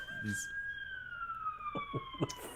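A siren wails in long steady tones, slowly sliding down in pitch, moderately distant, while someone talks over it.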